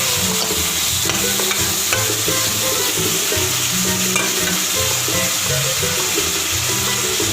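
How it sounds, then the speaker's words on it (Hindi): Cubed onions fry loudly in a pan, a dense continuous sizzle with occasional stirring scrapes, close and steady throughout. "ये हमारे प्याज फ्राई हो गए"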